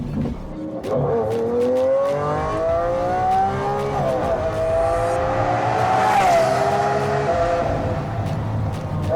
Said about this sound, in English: Just give me that sound all day long. What exhaust is it? It's a Capristo exhaust.